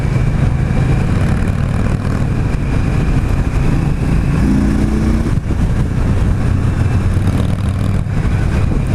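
A 2017 Victory Octane cruiser motorcycle engine drones while being ridden. The rough exhaust note stays loud and close throughout, with a short rise in pitch midway.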